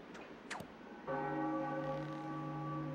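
A bell rings out in The Legend of Zelda: The Wind Waker, a single loud resonant strike with a long sustained ringing tone, preceded by two quick whooshing swipes.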